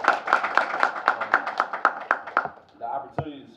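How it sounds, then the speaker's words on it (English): Rhythmic clapping from a few hands at a University of Minnesota student event, about a dozen even claps in a steady beat, ending as a voice begins speaking. "So we should give them a round of applause."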